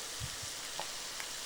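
Chicken rice cooks in a pan over a low flame, giving a quiet, steady sizzle with a few soft pops and stirring knocks scattered through it.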